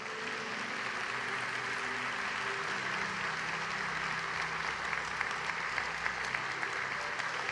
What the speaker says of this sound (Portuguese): Será que você pode aplaudir o nome do Senhor?